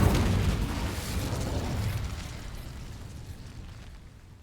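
A fire spell cast in a fantasy wizarding video game bursts out as a loud, rumbling whoosh of flame that hits at once and slowly fades away over a few seconds, with no talking.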